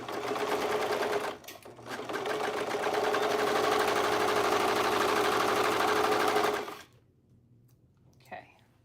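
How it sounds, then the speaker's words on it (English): A sewing machine stitches straps in a steady, close, continuous whir that stops abruptly near the end, with a short pause early on and a faint voice after it stops. "Sewing in these straps."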